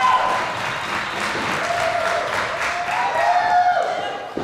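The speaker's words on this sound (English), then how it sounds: "Crowd really fired up here tonight in Pittsburgh." A wrestling crowd in Pittsburgh claps and cheers steadily throughout, a dense, continuous roar of applause with no clear breaks.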